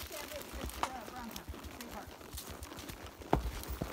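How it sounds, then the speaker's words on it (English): Tired horses walking slowly on a trail ride at a horseman camp in Brown County, hooves clip-clopping in an irregular rhythm with a few sharper close strikes, plus faint background noises. "The horses are tired. They went out earlier, and this is their second ride today. So they're moving slower."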